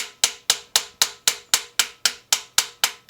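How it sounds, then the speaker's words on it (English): Small hammer tapping a dent out of an old Selmer saxophone's metal body, a steady series of about a dozen sharp, ringing metallic taps evenly spaced, close and clear with no talking. "I'm mostly letting the hammer fall."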